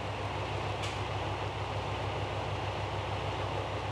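A JR local train at Gomen Station on Shikoku gives a steady, broad mechanical rumble and hum with a low drone, close and unbroken, with one brief faint squeal early on.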